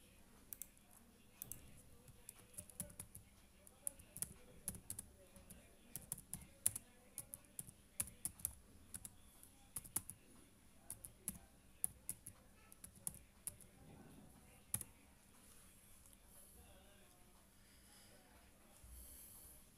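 Typing on a computer keyboard while searching for an Amazon KDP book cover calculator: rapid, irregular, close-up key clicks run through most of the stretch, soft and quiet, and thin out near the end.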